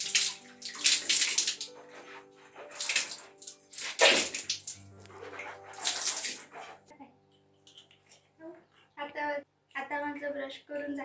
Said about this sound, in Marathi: मी आता माझा ब्रश वॉश करून घेते.